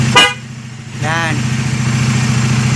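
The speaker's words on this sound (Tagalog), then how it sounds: "So ito yung loud horn niya" A Bajaj Dominar 400 motorcycle's aftermarket loud horn blares in a steady sustained tone close by, preceded by a short sharp blip, with the idling engine beneath.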